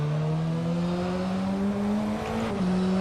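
A race car engine in a racing video game drones steadily at high revs, its pitch climbing gradually while overtaking another car, loud and continuous with no talk.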